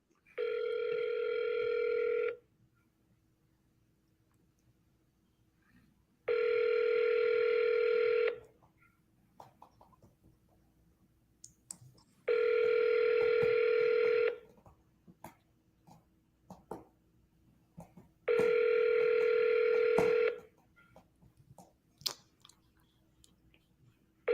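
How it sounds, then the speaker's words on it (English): An outgoing phone call rings through the earpiece, with four evenly spaced ringback tones of about two seconds each, separated by quiet gaps and faint clicks. "we need to call Joy Allen"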